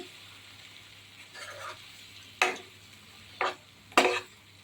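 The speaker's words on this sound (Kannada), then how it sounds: "ಚೆನ್ನಾಗಿ ಮಿಕ್ಷನ ಮಾಡ್ಕೊಳ್ಳಿ अच्छे से मिला लीजिए" Chicken gravy being mixed in a pan over a low flame: a soft scraping stir followed by three sharp, brief utensil clinks against the pan, spaced about a second apart, close and fairly quiet.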